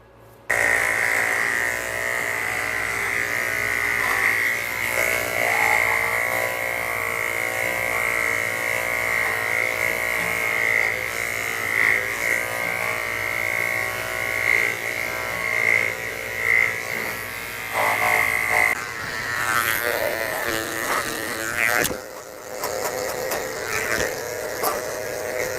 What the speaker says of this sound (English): I'm going to shave her real quick before her bath just to get some of the hair off.